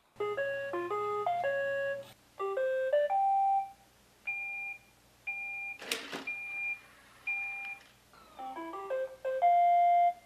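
A series of short electronic beeping chime melodies from an iRobot Roomba 980 robot vacuum, several distinct tune patterns separated by brief pauses, with one sharp burst of noise in the middle.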